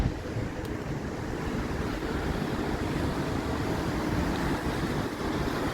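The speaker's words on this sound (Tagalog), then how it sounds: "Malakas ang hangin." Strong wind blows steadily during a rainy, flooded day, a continuous loud broadband roar with buffeting against the microphone and no pauses or voices.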